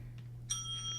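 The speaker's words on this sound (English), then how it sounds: "There's the bell." A single bright bell ding, like a bicycle bell, rings out once and lingers with a clear sustained tone over a steady low electrical hum, fairly quiet overall.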